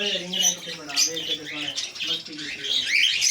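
Ring-necked parakeets and other caged birds at a bird market in Sahiwal squawk and chirp in sharp, overlapping bursts close by, with voices murmuring underneath.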